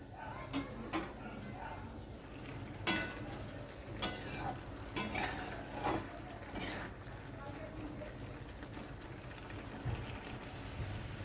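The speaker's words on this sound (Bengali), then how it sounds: "আর মাঝে মাঝে একটু খুন্তি দিয়ে নাড়বো।" A spatula stirs carrot halwa in a frying pan, making soft scraping knocks at irregular intervals over a steady low sizzle, with a voice heard at times.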